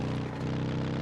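A propeller airplane engine in PUBG gives a brief, steady droning hum with a rhythmic low pulse, at a moderate level without speech.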